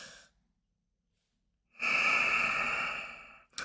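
A single long, breathy exhalation is heard close up after a brief quiet pause, steady and audible for over a second before a fresh breath begins, as in a slow meditative breathing technique.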